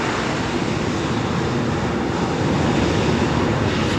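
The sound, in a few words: Airbus A320 airliner engine noise at Heathrow Airport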